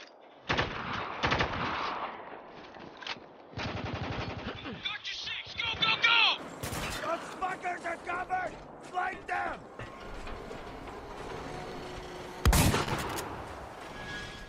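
Gunfire in the Spec Ops: The Line war video game, heard as bursts of rapid automatic shots and single cracks, loud and close, mixed with mechanical clatter and game sounds.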